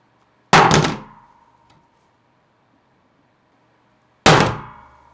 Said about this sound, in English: The kickstand is rock solid even if I bang on the desk.